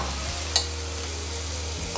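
Seitan sizzles steadily in a pan with sweet and spicy sauce while being stirred, a constant frying hiss broken by a couple of light utensil taps.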